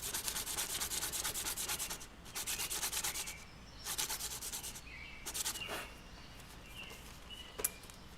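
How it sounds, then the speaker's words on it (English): A sanding block rubs graphite pencil lead in quick, rhythmic back-and-forth strokes, close and fairly soft, coming in several bursts with short pauses between them. "this is not my sanding block for graphite."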